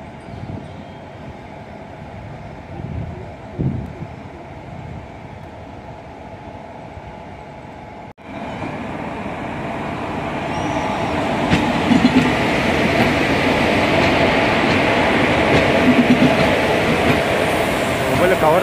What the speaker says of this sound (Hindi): ट्रेन कब आएगी अपने पंडरपुर स्पेशल वाली?